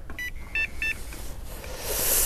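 An electronic bite alarm on a carp rod beeps during night fishing on the Danube in January, a few short high beeps in quick succession over outdoor background hiss.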